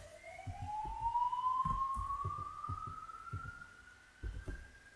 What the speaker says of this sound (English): It's a police car you can hear.